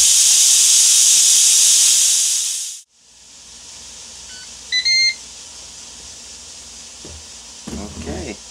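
A loud, steady hiss of steam rushing out of a Ninja Foodi pressure cooker cuts off abruptly, followed by a few short electronic warning beeps and then a brief voice.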